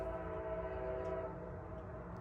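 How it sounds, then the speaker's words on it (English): A distant train horn wails steadily at a railroad crossing as a Heritage Unit-led Crescent passenger train approaches in Greenville, South Carolina, a sustained tonal blast heard from afar over low rumble. "the distant wail of a train horn"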